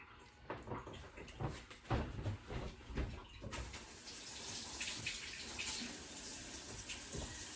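Water runs from a kitchen tap while raw chicken is rinsed for barbecue chicken sandwiches, a steady splashing rush that grows fuller halfway through, with faint clatter near the start and no speech.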